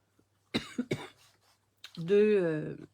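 Two sharp coughs close to the microphone, followed after a pause by a drawn-out vocal sound.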